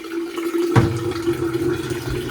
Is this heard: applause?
no